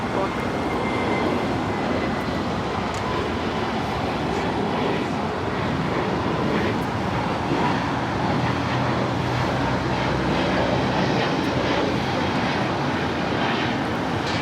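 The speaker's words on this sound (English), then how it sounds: "This is Spirit Airlines 591 taking off to Houston Intercontinental on the A320neo" A Spirit Airlines A320neo takes off at LAX, its engine roar a loud, steady, broadband rumble filling the whole stretch, with voices faintly underneath.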